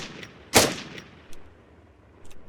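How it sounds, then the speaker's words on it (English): Gunfire in the video game Arma 3 Apex: one loud, sharp shot followed by a few fainter distant cracks and pops against a quiet background. "Now if I shoot him in this crotch plate, it should take less rounds."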